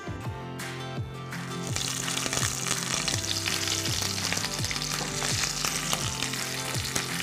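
Cashews and cut green chillies for pulao sizzle and crackle steadily in hot oil, close and loud, with a brief splash as they drop in and a few stirring scrapes, plus background music.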